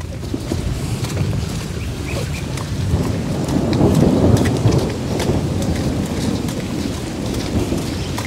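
Heavy rain pours down in a loud, steady, dense hiss, with a low rumble swelling briefly near the middle before easing back into the downpour; no voices.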